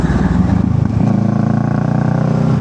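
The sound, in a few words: motorcycle exhaust popping like gunshots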